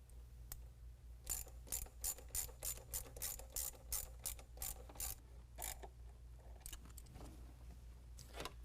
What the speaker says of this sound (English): We're going to go ahead and tighten that down with an 8mm.